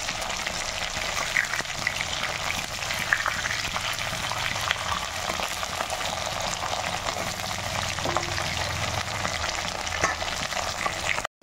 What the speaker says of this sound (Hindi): फिर से मैं ये मछली को डालूंगी हाफ फ्राई करूंगी